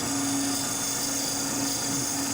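A wood lathe spinning a workpiece while a roughing gouge takes it down, giving a steady, loud, continuous whirring hiss with a constant hum underneath, uninterrupted throughout.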